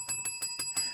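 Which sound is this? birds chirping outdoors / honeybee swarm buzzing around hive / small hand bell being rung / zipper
small hand bell being rung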